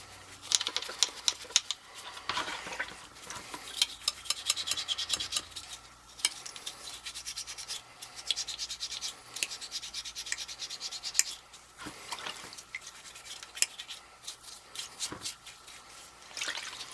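A plate on an oil-fired boiler is scrubbed clean with irregular scratchy rubbing strokes and occasional wet dabs, close up and fairly quiet throughout.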